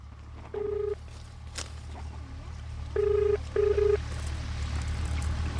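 Three short electronic keypad tones from a phone being dialed, one early and two close together later, over a low steady hum.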